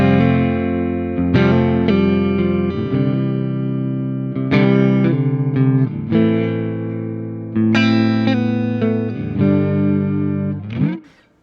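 Electric guitar played through a tube amp with the overdrive turned down and master volume pushed, giving a clean, fat tone with light grit; loud, sustained chords and single notes ringing in phrases, with no talking.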